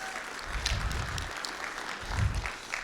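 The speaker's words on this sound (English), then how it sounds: "Did y'all give him a round of applause already?" A crowd claps for a man who just got his first athletic director job at Andrews, a moderate, steady patter of applause with a couple of low thumps partway through.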